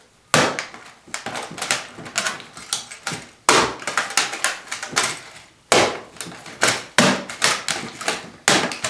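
Knife blade chopping into a piece of wood, a long series of loud sharp cracking strikes in uneven bursts with short pauses between groups, close and alone.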